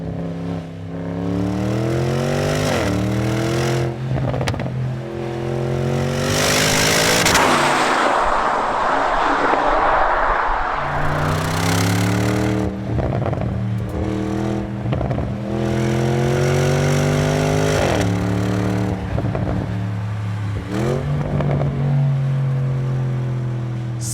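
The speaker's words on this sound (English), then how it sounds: "if you roll your window down, you can also hear that V8 bark like a madman" A Porsche Cayenne Turbo Coupe's V8 engine revs hard through repeated rising surges, with sharp crackling bursts between shifts, loud and close throughout.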